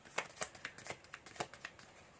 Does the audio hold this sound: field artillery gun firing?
no